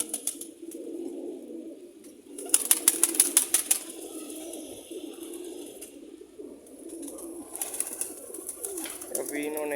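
Soft, low cooing of pigeons repeats through the scene, with a burst of rapid flapping or clattering and a voice speaking nearby.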